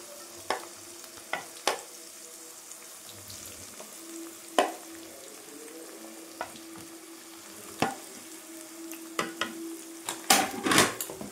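Green peas stirred in a pan over low heat for a pickle, with soft scrapes and clicks of the spoon, occasional light clinks and a faint sizzle in an otherwise quiet kitchen.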